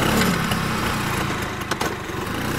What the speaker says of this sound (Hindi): गाड़ी स्टार्ट नहीं हो रही ना